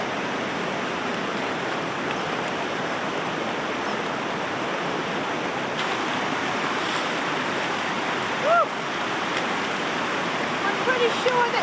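A mountain-valley river rushes at a crossing in midwinter, a loud, steady hiss of flowing water close by, with faint brief sounds near the end.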